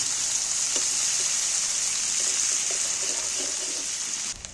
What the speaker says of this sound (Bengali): পেঁয়াজগুলো তেলের উপরে ফোড়নের উপরে তুলে দিয়ে পেঁয়াজগুলো আমার ভাজা হয়ে গেছে